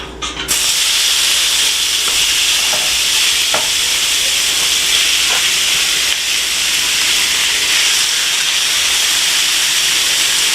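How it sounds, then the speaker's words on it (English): Chicken and bacon sizzle loudly and steadily together in a hot pan, a constant crackling hiss with occasional pops and stirring clinks. "we're going to fry up the chicken and the bacon"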